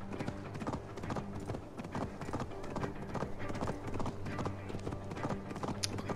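Galloping horse hooves in Assassin's Creed Valhalla, a steady rapid clip-clop running throughout over dense game music and ambience, with a brief faint whinny near the end.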